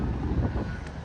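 Wind buffets the microphone at a seaside park in Japan, a steady close rumble lasting about a second with no talk over it.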